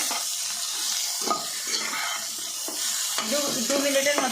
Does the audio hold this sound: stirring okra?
yes